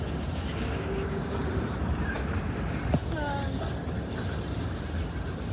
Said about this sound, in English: a train came with an NS-8 on it